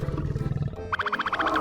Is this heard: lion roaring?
yes